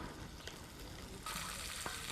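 Butter frying in a pan, probably outdoors by a fishing pond, a steady soft sizzle that grows louder partway through, with faint knocks from a utensil.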